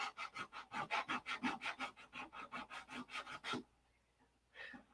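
Rapid hand sanding on a P-47 control-line model airplane, a steady rhythmic rasp of about twenty quick back-and-forth strokes, close and alone, stopping abruptly followed by a brief pause and one more faint stroke.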